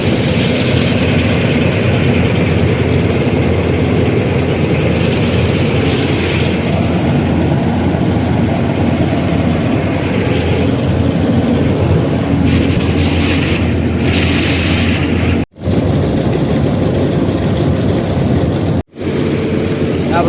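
A combine harvester engine drones loud and steady in a farm field, a constant low heavy rumble that runs without a break, with two brief dropouts near the end.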